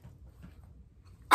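A single sharp sneeze bursts out at the very end, loud and close after a stretch of quiet room tone, during a makeup session with a toddler.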